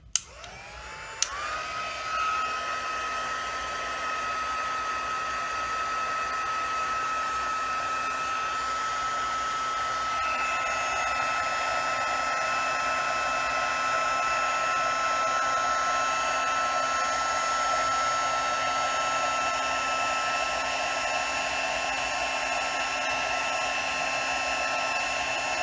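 A heat embossing tool on setting 2 blows hot air with a steady, loud whir that starts with a click and runs unbroken for about twenty-five seconds, close by and with no one talking.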